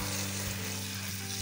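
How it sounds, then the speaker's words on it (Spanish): Heads of garlic fry in oil in a pan, giving a steady, dense sizzle close up that continues throughout without any voices. "Encendemos el fuego y sofreímos."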